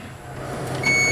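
A Samsung DV40J3000EW/A2 dryer giving a single short electronic beep as it powers on, close and clear over steady background hum.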